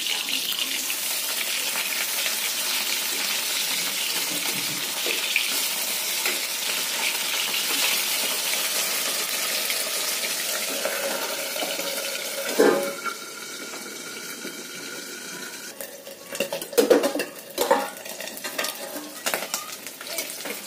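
Tangra fish sizzles steadily in hot oil in a pan for a long stretch, with a couple of louder clanks of a utensil against the pan partway through.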